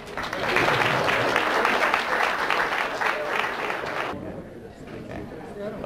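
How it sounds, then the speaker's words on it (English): Audience applause fills a room in steady, dense clapping for about four seconds, then thins and fades as a few voices take over. "You can clap, it's okay."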